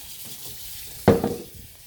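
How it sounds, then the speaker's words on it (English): A cream-separator tray is rinsed at a dairy sink: a quiet room tone, then a sudden close splash of running water that trails off into a few softer sloshes. "It gets rinsed, and then it goes into the soapy water."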